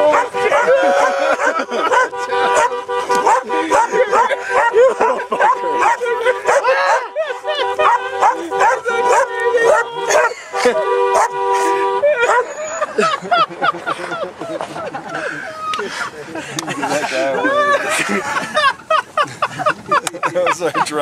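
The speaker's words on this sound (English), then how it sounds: "that was our driver antagonizing the dog." A dog in Bolivia barks and yips sharply while being antagonized, loud rapid bursts mixed with whimpers over music and talking.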